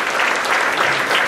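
A church congregation claps in a short burst of even, dense applause, steady and moderately loud throughout with no pause.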